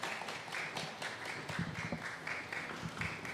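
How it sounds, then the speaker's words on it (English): A seated audience claps steadily to welcome the jury at the 35th Tokyo International Film Festival press conference, a soft, even wash of many hands in a large room for the whole stretch. "So please welcome with a round of applause all the members of the International Competition of"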